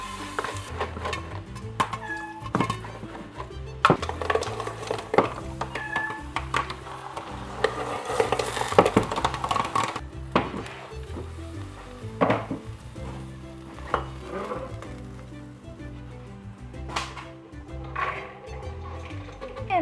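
A pot of cinnamon kettle corn is shaken over reduced heat, giving repeated clattering rattles of kernels and metal against the burner, with scattered pops and light sizzling up close.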